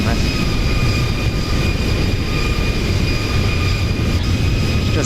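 Boeing 737-800 engines in an X-Plane flight-simulator replay roar steadily and loudly, with a constant broadband rumble and sustained whining tones, under faint talk.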